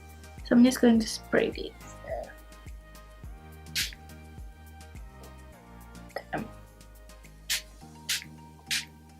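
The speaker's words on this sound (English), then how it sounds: "So I'm just going to spray this." A Colourpop All Star Prep and Set setting spray gives several short, crisp hissing spritzes spaced a few seconds apart, close to the mic, over quiet background music and a few soft mouth noises.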